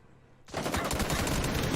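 Automatic gunfire sprays bullets during a PUBG esports group-stage match. A dense, continuous burst cuts in sharply after a brief quiet moment and stays loud to the end.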